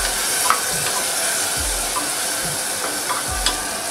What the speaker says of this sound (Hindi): टमाटरों को चलाते हुए भून लेंगे